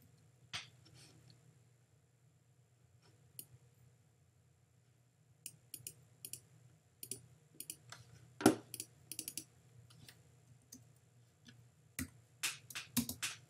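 Clicks from a computer keyboard during a Unity game-development session, heard as sparse, irregular taps and short bursts of keystrokes over a low steady hum, with no talking.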